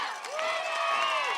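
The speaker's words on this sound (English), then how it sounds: "asking the crowd to get up and scream as they come off the field" A crowd at a high school playoff football game between Navarro Panthers and Carrizo Springs roars and cheers at the end of the first half, a dense continuous wash of voices with a rising and falling whistle or shout on top.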